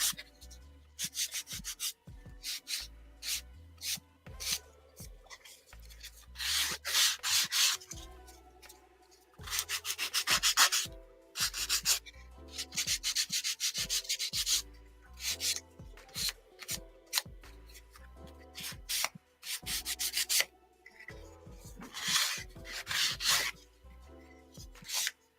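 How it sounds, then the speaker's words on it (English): A small handheld sander works lightly over the sides of a wooden awning on a model fireworks stand, rubbing off burn marks in short, uneven scratchy bursts that start and stop close to the listener. "I'm sanding the surface very lightly, trying to get some of that burn mark off."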